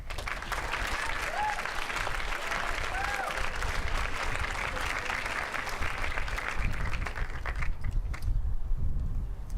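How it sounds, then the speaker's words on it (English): Sustained applause from a crowd at a graduation address at Red Cloud Indian School, steady dense clapping filling the room for several seconds before tapering off near the end, with a few faint voices mixed in. "I would invite you, please, to give them a round of applause"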